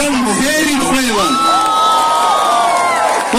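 A concert crowd at a night show band gig in Abasha, loud and close, cheering and whooping with rising shouted voices over light clapping, sustained yells carrying through the whole stretch.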